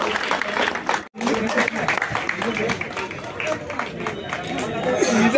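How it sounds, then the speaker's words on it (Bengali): Crowd applauding at an eight-team MLA Cup knockout cricket tournament, steady dense clapping with chatter and cheering mixed in, briefly cut off near the start before resuming loud and sustained. "সবাই জোরে হাততালি"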